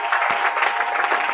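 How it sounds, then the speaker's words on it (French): A church congregation applauds, with steady dense clapping throughout, moderately loud and close. "Nous pouvons acclamer très fort pour la gloire."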